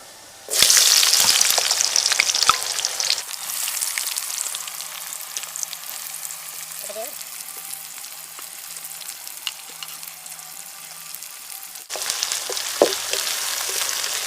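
Chopped onions and whole spices (cardamom, cloves, cinnamon, dried red chillies) frying in hot oil give a loud, steady sizzle that dips partway through, then flares again near the end, with a few soft stirring clatters.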